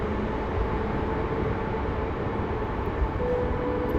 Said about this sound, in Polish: tymczasem podstawia się pociąg do stacji Brzeg. Koleje dolnośląskie.